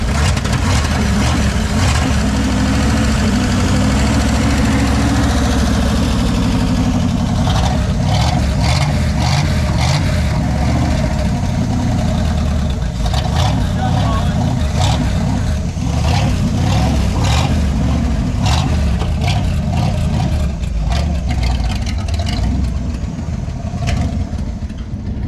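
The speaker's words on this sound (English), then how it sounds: "Guys, this is how you professionally jumpstart a vehicle" The engine of a Chevrolet El Camino runs after a jumpstart in a garage. A loud, continuous rumble with repeated revs carries on for the whole stretch with no talk.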